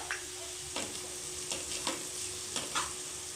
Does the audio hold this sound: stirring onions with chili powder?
yes